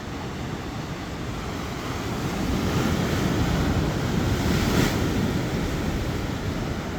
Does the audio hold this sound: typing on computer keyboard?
no